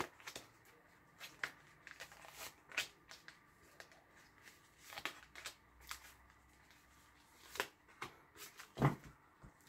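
Tarot cards cut and handled by hand, giving a string of soft, quick papery flicks and slaps at close range, quiet and spread irregularly across the moment.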